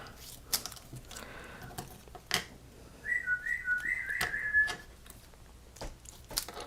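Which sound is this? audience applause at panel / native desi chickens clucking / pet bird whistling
pet bird whistling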